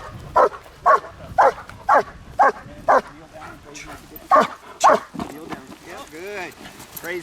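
A trained German Shepherd protection dog barks in a rapid series of loud, close barks, about nine sharp bursts in steady rhythm, followed by whining and whimpering, with a handler's voice nearby.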